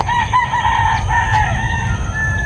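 Chickens cluck and a rooster crows close by, the calls overlapping against a constant farmyard hum.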